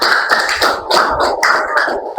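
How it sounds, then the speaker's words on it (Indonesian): Classroom applause from students, a burst of quick, bright claps that sounds close and loud, rising and falling in uneven waves over a couple of seconds. "Kita beri tepuk tangan untuk kita semua."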